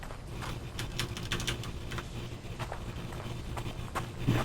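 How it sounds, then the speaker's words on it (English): Computer keyboard clicking during PC gameplay of The Infected, a steady patter of quick keystrokes close to the mic over a low background hum, with no talk. "You can probably hear too much of my keyboard."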